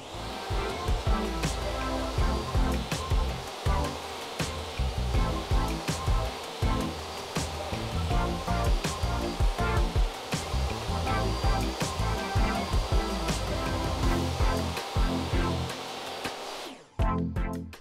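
Wood pieces for a box are fed through a saw cutting dados, giving a loud, steady roaring whine with repeated sharp bites as each piece passes. The saw cuts off abruptly near the end.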